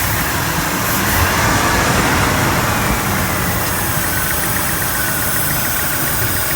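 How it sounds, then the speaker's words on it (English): A truck engine idling loudly up close, a steady rumbling drone with a broad hiss from a vacuum leak mixed into the noise throughout. "These trucks get very bad vacuum leaks. Oh my God, you can just hear the vacuum leak."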